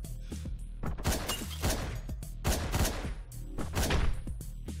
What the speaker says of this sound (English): Of course the guy with the gun would shoot and kill me.